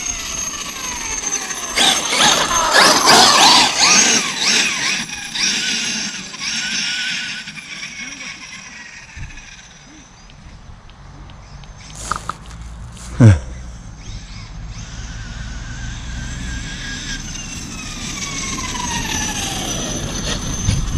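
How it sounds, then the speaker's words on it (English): A Losi 5ive T brushless twin-motor RC truck on 8S, 14,000 watts, spins its wheels over lumpy ground as it accelerates to about 44 mph, with rising motor whine, rattling and clattering, loud and close. "That is literally wheel spinning the whole way through the acceleration there, 44 mile an hour."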